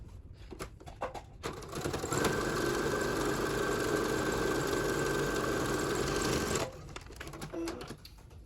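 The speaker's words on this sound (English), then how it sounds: "we're going to sew this one onto the top edge" A sewing machine stitches fabric for a face mask, a fast, even mechanical whirring that runs steadily for several seconds, preceded and followed by quieter handling clicks and rustles.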